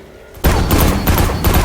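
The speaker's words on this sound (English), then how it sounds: "I've always liked shooting hive." Rapid gunfire from Destiny 2 as a player shoots Hive enemies, a dense burst of loud shots starting abruptly and continuing without pause, with thuds and booms mixed in.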